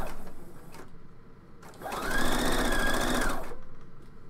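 A sewing machine stitches through a foam bra cup, a short whirring run after a few start-stop bursts, close and fairly loud, with quiet gaps around it and no talking.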